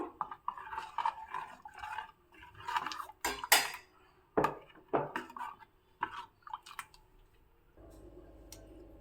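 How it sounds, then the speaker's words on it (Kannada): Intermittent clinks and scrapes of a spoon against a metal pot of saaru curry being stirred, with soft wet squelching between strokes; no talking. "ಚೆನ್ನಾಗಿ ಮಿಕ್ಸ್ ಮಾಡಬೇಕು"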